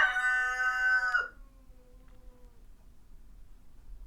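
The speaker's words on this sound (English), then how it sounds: "He's a very unruly rooster." A rooster lets out one loud, close crow lasting about a second, then quiet with faint background hum.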